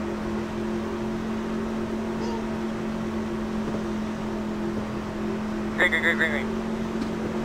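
Race cars on track under green flag heard from an in-car camera, a steady loud engine drone with a constant low hum, and a brief rising whine near the end.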